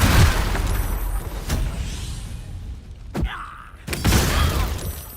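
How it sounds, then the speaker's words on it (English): A grenade explodes in Baldur's Gate 3 with loud booming blasts and shattering crashes, among several sharp impacts and brief creaking game effects. "He threw a grenade at me."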